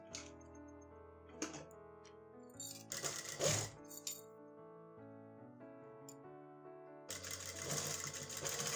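A sewing machine stitches along the edge of a pair of trousers in short, close bursts with ticking and clicks between runs, ending in a longer, louder stretch of stitching.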